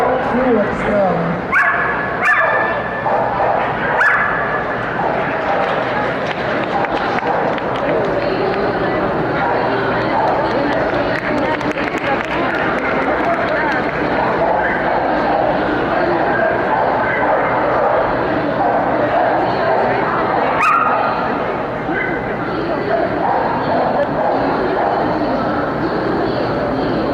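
Dogs barking and yipping at an indoor dog sports competition, with repeated sharp barks and whimpers scattered through steady hall noise while someone commentates in Latvian over them.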